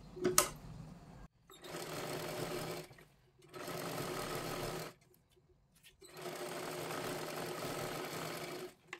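A sewing machine stitches a size 40 katori blouse, running in three steady whirring bursts with short pauses between them, close and clear with nobody talking.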